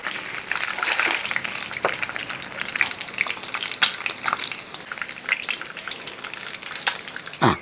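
Eggs fry in hot oil in a pan, crackling and spitting continuously with scattered sharp pops and bursts of sizzle, close and fairly loud, with occasional stirring or turning sounds and a final clatter at the end.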